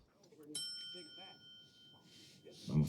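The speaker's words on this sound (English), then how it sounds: "The origin of the bell." A single bright bell strike rings out and lingers with a long, fading shimmer while people talk over it.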